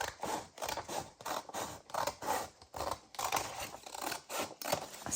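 Scissors cut paper for a junk journal cover in a quick series of close, crisp snipping strokes at an even rhythm, with no talk.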